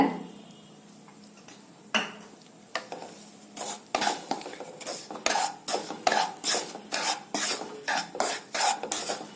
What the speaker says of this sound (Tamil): இந்த நெய்யோட சேர்த்து நல்லா ஒரு நிமிஷம் மட்டும் கலக்குனா போதுங்க